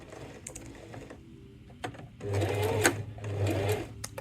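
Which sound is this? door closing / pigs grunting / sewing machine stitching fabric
sewing machine stitching fabric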